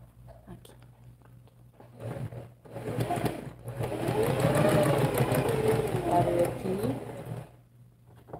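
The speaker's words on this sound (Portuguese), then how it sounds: "Aqui com tecido, vamos fazer a primeira costura." Domestic sewing machine stitching a first seam through fabric, a steady whirring motor burst lasting a few seconds at close range, starting and stopping between quiet moments.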